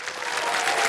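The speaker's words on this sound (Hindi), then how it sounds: "एक बार फिर तालियां बज जाएं सुधीर कुमार जी के लिए" Studio audience applauding on the KBC game show, a dense steady burst of many hands clapping at once, loud and sustained throughout.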